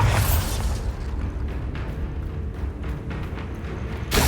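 Spell explosions from Confringo and Bombarda in the Hogwarts Legacy video game: a loud burst up front, then a dense rumbling, crackling wash of battle noise, ending in another sharp blast.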